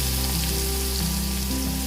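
Chopped onions frying in hot oil with asafoetida, giving a steady, close, continuous sizzle with no pauses or talk.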